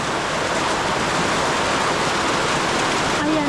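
Dense, steady roar of heavy rain pouring down continuously, broadband and loud, with no voices.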